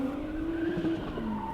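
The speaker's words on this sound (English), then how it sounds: "burning their tires off" High-powered drift cars slide sideways with sustained tire squeal, a wavering high screech over engine rumble, loud and continuous without speech.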